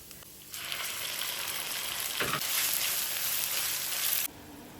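Chicken dropped into a pan of frying chopped garlic: the sizzle swells suddenly into a loud, steady hiss with a brief crackling burst, then cuts off abruptly to a quieter background.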